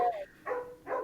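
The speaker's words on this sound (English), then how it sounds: "I'm very sorry about the barking dog," A dog barks three times in quick succession indoors, each bark short and moderately loud against a quiet room with no talking.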